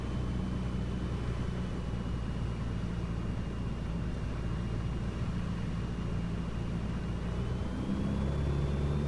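A steady, droning light aircraft engine hums evenly throughout, heard from inside the cabin during a night flight on final approach, with a faint rising tone near the end.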